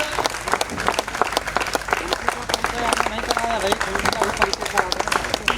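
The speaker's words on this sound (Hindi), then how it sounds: "मुन्ना जी के लिए जोरदार तालियां" An audience in a theatre claps warmly for the musician Munna ji after a Rashmirathi performance. The clapping stays steady and full while voices talk over it.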